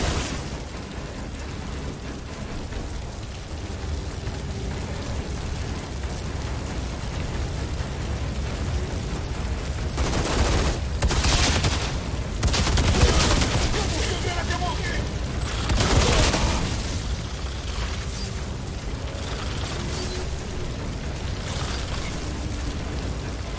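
Gunfire and heavy explosions from the shooter game Outriders build over a constant rumbling backdrop, with several loud booming blasts bunched in the middle stretch.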